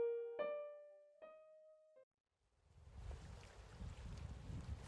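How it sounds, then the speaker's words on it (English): Rough sea water churns and washes steadily in stormy weather with heavy wind noise, rising after a few clear tonal chimes and a short silence, loud and continuous with no voices. "Sound of water."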